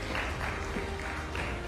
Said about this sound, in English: Please, big round of applause for everybody on stage.